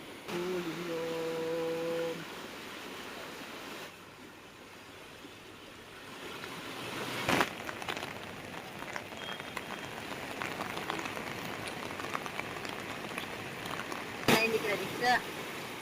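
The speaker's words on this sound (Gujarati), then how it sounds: "તેવા ધસમસતા પાણીના પ્રવાહ છે" Rushing floodwater after torrential rain in Keshod, Junagadh, with rivers overflowing; a steady broad roar of flowing water runs throughout while people talk over it.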